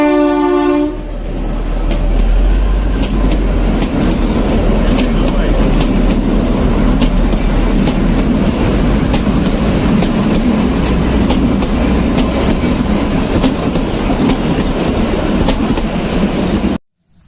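A train passing close by, opening with a blast of its horn and then a loud continuous rumble of wagons with rhythmic clickety-clack of wheels on rails, cutting off at the end.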